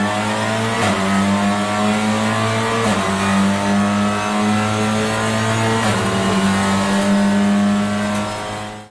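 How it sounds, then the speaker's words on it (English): A Honda Civic Type R TCR touring car with a straight-cut sequential dog box revs loudly and close by, rising in pitch between quick, regular gear shifts roughly every three seconds. "Starting at number 10 is the Honda Civic Type R TCR."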